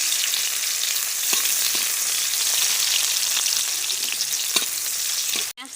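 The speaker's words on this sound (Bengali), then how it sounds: "তার জন্য আমি কড়াই দিয়ে দিচ্ছি পেঁয়াজ কুচি দিয়ে দিচ্ছি।" Chopped onions fry in a wok for a village-style prawn curry with drumsticks, a constant close hissing sizzle broken by a few spatula taps and stirs, no speech.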